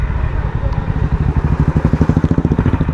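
Honda Highness CB350 motorcycle engine idling at the roadside after repeated revving, a steady close thumping pulse that grows more distinct and rhythmic toward the end, with no talk over it.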